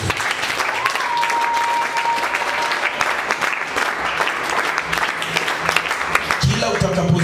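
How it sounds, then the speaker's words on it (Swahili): A church prayer-conference congregation claps and cheers in praise of Jesus, dense sustained applause filling the room close by, with voices calling out over it. "Hebu mpe Yesu makofi"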